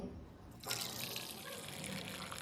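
Beetroot cooking water is poured from a pressure cooker into a vessel, making a soft, steady splashing rush that grows fuller partway through and keeps going at low volume.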